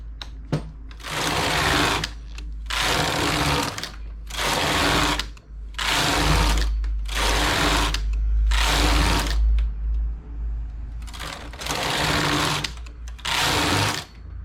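A domestic knitting machine carriage runs rows for a hole-free front edge finish, its loud mechanical whirring arriving in about eight steady passes separated by brief pauses, with no voices.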